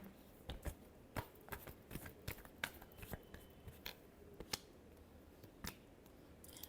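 Tarot cards are shuffled by hand in close, quiet bursts of crisp snaps and riffling flicks, irregular and with no talking.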